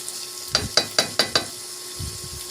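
Ground pork giniling is stirred in a sizzling pan, five quick, evenly spaced scrapes and taps of the spatula, then a few softer strokes, close over a low steady hiss.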